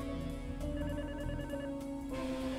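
Telephone ringing inside the stealth video game Hacktag, a steady electronic ring sitting over dense game music and ambience, moderately loud and continuous with no talk.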